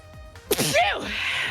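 A person sneezes violently once, giving a sharp, loud burst with a rising vocal sweep after a short quiet lead-in.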